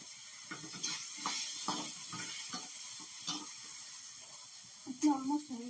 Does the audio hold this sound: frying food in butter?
yes